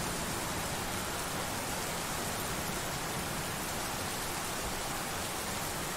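Steady, dense rain hiss from the Roblox game Lumber Tycoon 2 fills the whole stretch, an even wash of drops with no pauses, no voices and no other sounds rising above it.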